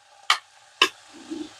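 A spoon scrapes through guar (cluster bean) curry in a pan, two sharp separate strokes half a second apart, close and clear, followed by a faint low sizzle.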